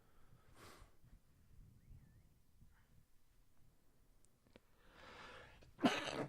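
Near the end a single loud sneeze bursts out close by, after a quiet stretch with faint breaths and small noises.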